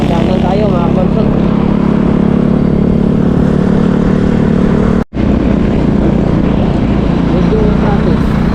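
A motorcycle rides steadily along a highway in light traffic, a continuous loud engine drone with heavy wind rumble that cuts out for an instant midway, while a rider talks over it throughout.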